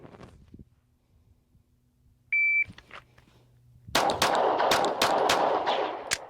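Shooting training at a range: a brief electronic beep from a shot timer, then a rapid string of sharp gunshots fired in quick succession, loud and close, with no talking.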